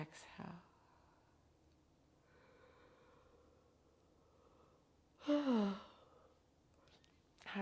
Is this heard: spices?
no